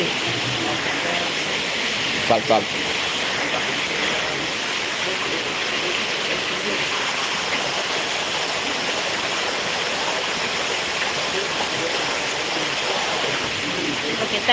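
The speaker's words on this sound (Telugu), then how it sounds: "వాటర్ ఫాల్ చూడండి" Continuous rushing roar of the Akasa Ganga waterfall near Tirupati, dense and steady throughout, with a couple of brief knocks early on.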